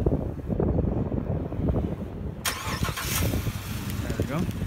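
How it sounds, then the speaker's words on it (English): A 2015 Cadillac Escalade ESV with a 6.2 liter V8, started remotely by command start, cranks and fires midway into a steady idle under wind noise, with someone talking throughout. "so I'll just go ahead and start it up for you"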